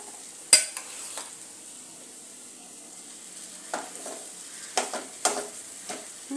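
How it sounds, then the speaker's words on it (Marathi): Boiled, mashed potatoes being stirred and sautéed in a pan for a potato snack, with scattered scraping clicks of the spoon against the pan over a faint steady sizzle, the sharpest strikes standing out near and distinct. "चांगले परतून घेऊया"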